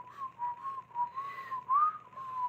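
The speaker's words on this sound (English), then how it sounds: "stop whistling" A person whistles a wavering tune, a steady close-up whistle holding near one pitch with a few rising slides, clear and alone with no talking.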